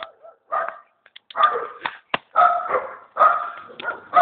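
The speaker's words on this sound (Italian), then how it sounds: "Questo è il cane più brutto del mondo." A dog barks in a run of sharp, close yips and woofs, several short barks spaced irregularly with brief pauses between them.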